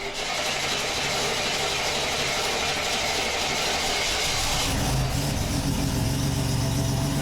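A 1987 Buick Grand National running rich just after a slow start, its engine holding a steady, loud idle that shifts to a rougher, deeper tone partway through, with no voices.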